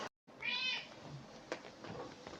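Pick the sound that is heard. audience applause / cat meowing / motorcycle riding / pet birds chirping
cat meowing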